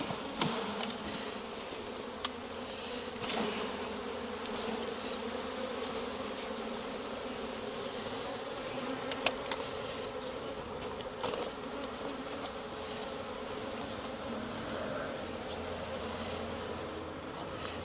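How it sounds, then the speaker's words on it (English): Honey bees stirred up and agitated at an opened hive make a dense, continuous buzzing drone that holds steady and moderately loud throughout, with occasional individual bees passing closer. "I got the bees good and mad now."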